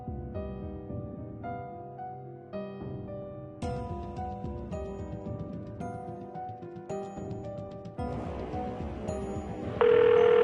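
A telephone rings in repeated patterned bursts of electronic tones, fairly faint and steady, ending in a sustained tone as the call connects.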